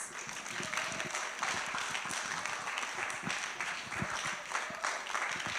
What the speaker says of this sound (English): I'm going to ask the next speaker to come in with a hand clap, please